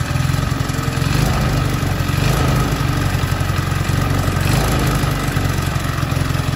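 A Euro Racing 110 motorcycle engine fitted with a fullwave stator and magneto runs during a charger test, holding a loud, steady, dense drone for the whole stretch with no talk over it.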